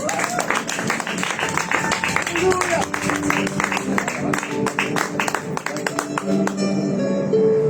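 Church congregation clapping hands together as an offering of praise, a steady dense patter of many palms filling the room, with a voice and held musical tones running underneath.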